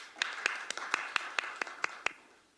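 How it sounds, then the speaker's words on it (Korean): At a political seminar in a meeting room, a small number of hands clap about ten times in a steady, evenly spaced rhythm, fairly faint and without talk. "큰 박수 부탁드립니다."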